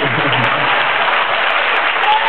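A festival audience applauds, a dense unbroken wash of clapping that holds loud and steady from start to end.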